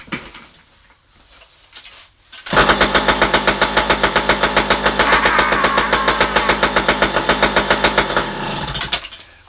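A two-stroke chainsaw, one of several power saws including a Super Mac and a 1010, fires up after a quiet start and runs loud and close with a rapid, pulsing engine chatter before cutting off near the end.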